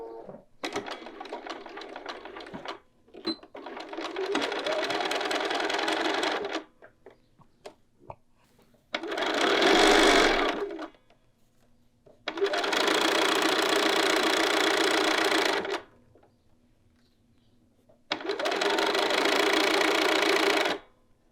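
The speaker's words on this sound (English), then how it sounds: "we're just gonna sew right across this edge. I'm gonna use my edge stitching foot" A sewing machine edge-stitching across the top of a garment pocket with an edge stitch foot, humming loudly and close in five separate runs of a few seconds each, with quiet gaps between them.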